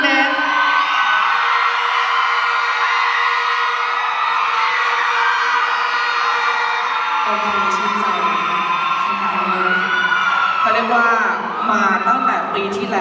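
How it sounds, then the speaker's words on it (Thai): An audience at the Miss Grand Nakhon Ratchasima 2025 beauty pageant final screaming and cheering, a loud sustained roar of shrieks and whoops with an amplified voice heard over the crowd. "ขอเสียงกรี๊ด"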